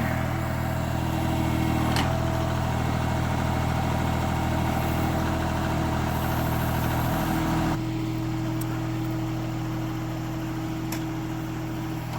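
A steady low engine drone runs throughout, a tractor with a backhoe idling and working nearby on a steep incline, with a slight shift in tone partway through.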